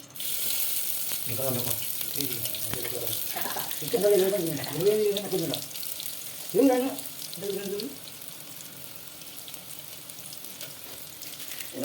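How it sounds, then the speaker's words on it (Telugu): Onions fry in hot oil in a home kitchen for semiya upma, giving a soft, continuous hiss and sizzle beneath people speaking at moderate volume. "ఇవి ఆయిల్ చేస్తున్నాం చెప్పింది నీకు నీకే మనం ఇక్కడ ఉల్లిపాయలు వేస్తున్నాం"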